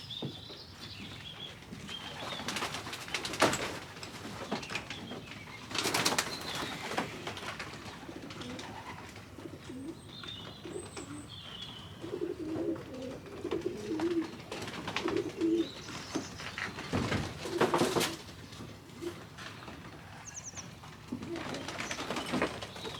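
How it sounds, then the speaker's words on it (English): English pigeons handled after vaccination give soft repeated coos amid wing flutters and faint chirps, the sounds coming in intermittent bursts over a quiet background. "See this wee fella, he's an English pigeon"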